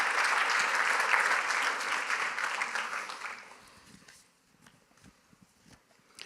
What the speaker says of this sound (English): Let's give you all a big round of applause